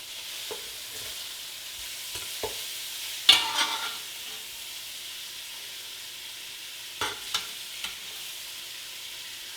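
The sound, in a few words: pork and sausage browning and sizzling in pan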